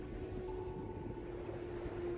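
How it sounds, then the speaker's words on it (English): A small boat's engine runs at sea with a steady, loud, low droning hum and a constant tone that holds without a break. "The captain ordered the engine started."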